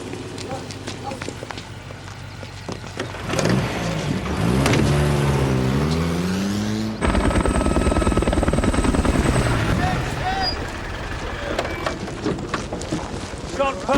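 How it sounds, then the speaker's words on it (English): A military helicopter arriving at army firing ranges, its rotor thump building from a distance to a loud close roar, with a vehicle and footsteps mixed in and voices speaking over it. "Chopper's here for him."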